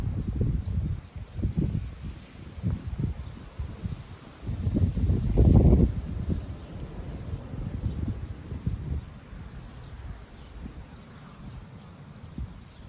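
Moderate outdoor wind, a little breezy after rain, rumbling in uneven low gusts against the microphone, strongest in a burst midway, then settling to a softer steady whoosh.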